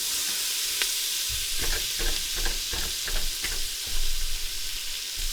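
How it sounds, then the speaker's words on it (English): Chunks of onion sizzle in a hot pot for a pot roast while a spoon stirs them, a steady close fry broken by several scraping strokes, with no voices. "We're going to come over here and check on our onions. Give them a nice stir."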